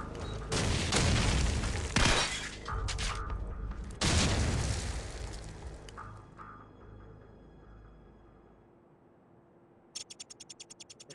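Grenade blasts go off in a search-and-destroy video game match: several loud, booming bursts come in the first few seconds, then a decaying rumble, and a rapid series of sharp clicks near the end.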